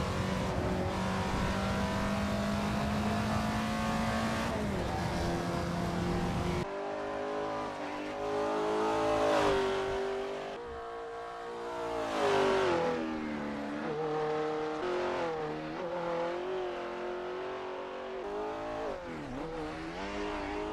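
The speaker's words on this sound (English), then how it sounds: "Ken Block is sadly no longer with us, but this is a great homage to that car that he was driving, and you can drive it in Assetto Corsa" Rally car engine in Assetto Corsa revving hard and shifting through gears, the pitch climbing and dropping with each change, loud and continuous with a tire squeal, no talk.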